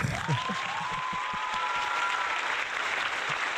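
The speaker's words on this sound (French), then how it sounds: "On peut l'applaudir" An audience applauds a guest sports announcer and journalist, a sustained even wash of clapping at moderate level, with a brief whistle-like tone gliding through it.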